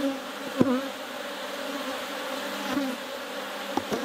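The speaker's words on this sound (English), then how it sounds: "These bees are very unhappy right now." A dense, steady drone of many honeybees buzzing nearby during hive splitting after smoking, agitated and continuous, with a few soft knocks and clicks scattered through it.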